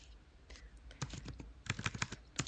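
Typing on a computer keyboard, quick irregular bursts of close, crisp key clicks that speed up toward the end, with no voices.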